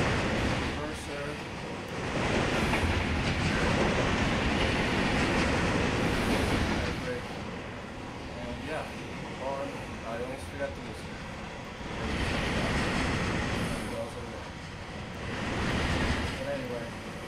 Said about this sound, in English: There's an Amtrak that's passing by now.